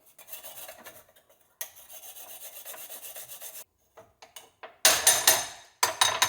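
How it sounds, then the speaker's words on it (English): Peeled fresh ginger rubbed against a grater in quick, rhythmic rasping strokes, close up with no talking; a short pause splits the runs, and the final bursts come out louder and harsher. "Cut it all up, take out the skin, and I grate it"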